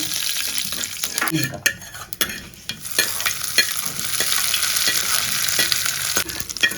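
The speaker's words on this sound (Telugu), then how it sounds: "ఆవాలు అయితే చిట్టుకుంటున్నాయి కరివేపాకు వేసుకోవాలా" Mustard seeds splutter in hot oil while tempering a coconut chutney, giving a steady close sizzle broken by many sharp pops and crackles, with occasional stirring scrapes.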